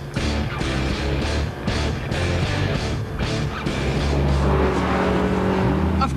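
A Lotus Elise sports car driving on a track, a steady loud engine drone with shifting pitch as it accelerates, heard continuously from close by throughout.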